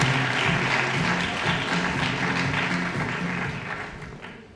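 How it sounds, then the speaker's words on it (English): A crowd at a club awards ceremony applauds in a sustained, even wash of clapping that slowly fades toward the end. "a huge round of applause to the 5 clubs who are part of the scheme"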